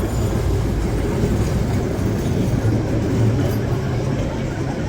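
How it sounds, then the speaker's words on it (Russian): A steady, loud rumble of a tram rolling past close by on a street in Kharkiv, with continuous low mechanical noise and rail clatter throughout. "Сейчас трамвай проедет."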